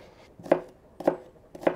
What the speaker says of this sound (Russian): будем добавлять очищенного лука. И нашинкуем полукольцами.